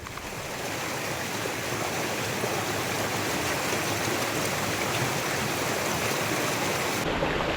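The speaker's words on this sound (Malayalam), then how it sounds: "വെള്ളത്തിൻ്റെ ശബ്ദമൊക്കെ കേട്ടല്ലോ മഴയൊക്കെ പെയ്തു തുടങ്ങി" Flowing water and rain blend into a dense, steady rushing wash that holds constant throughout, with no voices.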